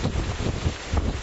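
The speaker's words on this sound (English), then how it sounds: "the major Santa Ana wind event continuing, bringing the possibility to turn any spark into a major fire" A strong Santa Ana wind blows during a wildfire threat, roaring in loud, gusty buffets against the microphone.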